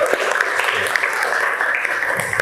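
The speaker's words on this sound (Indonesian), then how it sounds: "Tepuk tangan untuk kita semuanya." A class of high school students claps together in a classroom, a dense, loud and steady burst of applause lasting the whole moment, with voices mixed in.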